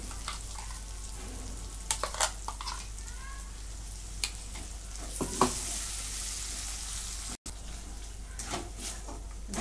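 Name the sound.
masala paste frying in a pan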